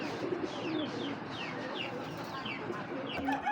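An old-breed racing and game pigeon coos among other birds, a steady dense background of cooing and scattered clucking calls repeating throughout without pause.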